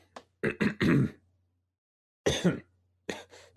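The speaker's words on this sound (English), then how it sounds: "I was trying to clear my throat" A few rough throat-clearing bursts close to the mic, a quick cluster then a pause and two more short rasps, in an otherwise quiet room.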